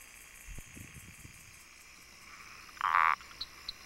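A South American swamp frog gives a single loud, buzzy call lasting about a third of a second, rising above a quiet background of faint insect chirps and low scattered knocks.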